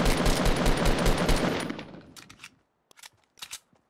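A rapid string of close Fortnite gunshots rattles out for about two seconds, then fades, leaving a few scattered softer pops and distant shots.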